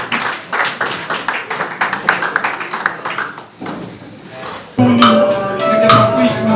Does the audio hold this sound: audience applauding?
yes